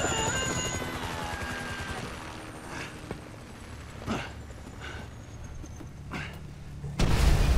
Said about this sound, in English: I've always hated that chopper.